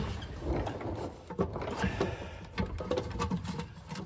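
A bolt being started by hand on a heavy car part during repair work on a 1969 Firebird or 2011 Mustang: steady close mechanical scraping and clicking of threads and metal, with small knocks and no talk.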